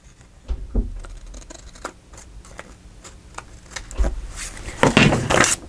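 Very long scissors snip through book-page paper for a junk journal, producing scattered close crisp cuts and rustles that build to a louder cluster of snipping near the end.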